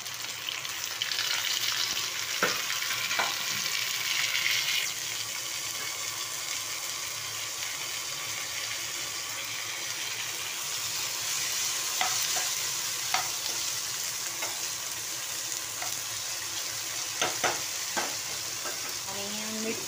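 Bitter gourd fries in a hot pan, giving a continuous bright sizzle while a utensil stirs and scrapes it with several sharp clinks, loud and close with no talking.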